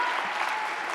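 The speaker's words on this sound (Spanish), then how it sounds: "Les pido un aplauso muy fuerte, por favor, para Catalina" A brief burst of full, close audience applause at an international design congress, dense and steady throughout.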